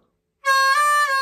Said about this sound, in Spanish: vamos a hacer un wow en el 4.